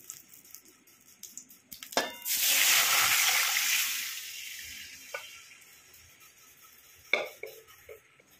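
Mung dal being tempered in a pot in a home kitchen, a sharp clatter followed by a loud hissing sizzle that swells for a couple of seconds and slowly fades, with scattered utensil knocks and pot clinks around it.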